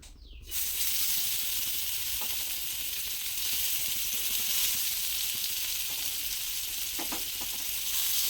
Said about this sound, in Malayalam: ചട്ടി അടുപ്പത്ത് വെച്ച് കുറച്ച് എണ്ണയും കൂടെ ഒഴിച്ച് കൊടുത്തിട്ടുണ്ട് മീനൊന്ന് വറുക്കട്ടെ